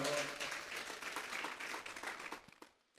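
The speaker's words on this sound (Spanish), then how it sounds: "Vamos a darle una ofrenda de palmas a Dios en esta hora" A church congregation claps together as an offering of praise to God, a dense burst of applause that fills the room and then fades out abruptly near the end.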